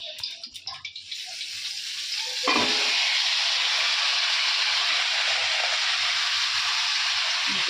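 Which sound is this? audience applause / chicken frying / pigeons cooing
chicken frying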